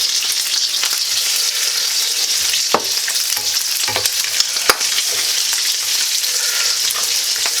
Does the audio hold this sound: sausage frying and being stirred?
yes